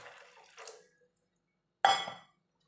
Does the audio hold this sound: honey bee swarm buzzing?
no